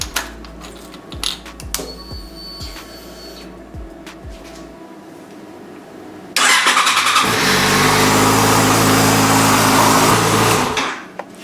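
Clicking and mechanical rattling, then a vintage BMW R75 motorcycle engine catches and roars steadily for a few seconds, close and loud, before cutting off.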